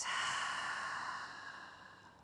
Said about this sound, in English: and long breath out.